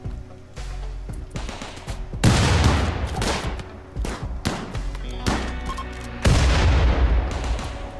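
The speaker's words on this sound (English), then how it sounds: "Those grenades." Grenades blasting in RimWorld, with several heavy booming bursts that hit hard and decay over a second or two, mixed with rattling gunfire between them, loud and dense.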